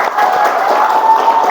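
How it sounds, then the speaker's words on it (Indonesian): Brief, dense clapping from a class in a university herbal medicine lecture for a student, a short burst of crowd-like applause with murmured voices underneath. "Tepuk tangan untuk Singsi."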